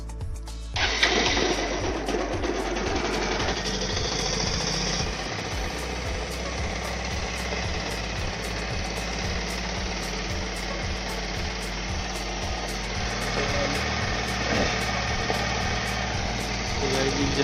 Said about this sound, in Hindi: अभी खाली तेल डाल के इसको स्टार्ट कर रहा हूँ।